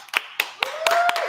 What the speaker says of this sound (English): big up yourselves and clap for yourselves